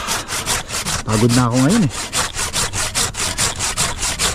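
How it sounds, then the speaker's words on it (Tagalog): A hand saw cuts through a large tree branch outdoors, with rapid, regular back-and-forth rasping strokes at close range; someone speaks briefly over the sawing partway through. "lagari na lang ginamit natin dito"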